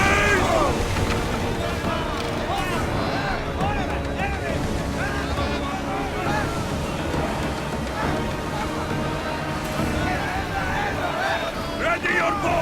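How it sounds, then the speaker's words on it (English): A sailing ship in the video game Assassin's Creed Odyssey moves at sea under raised sail, with constant wind and rushing waves filling the scene while voices shout over the top. "Raise the sail!"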